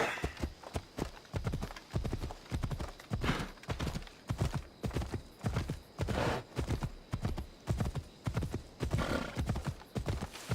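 Horse hooves clip-clopping in a steady rhythmic gait throughout, close and prominent, with whinnies mixed in, in the video game Assassin's Creed Odyssey.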